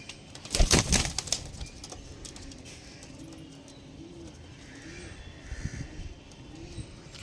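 Pigeons at a pigeon sale flap their wings in a sharp, loud flurry near the start, followed by quieter cooing, soft rustling and a second, weaker burst of flapping later on.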